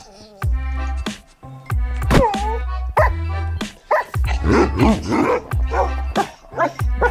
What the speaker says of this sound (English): dogs now have emotions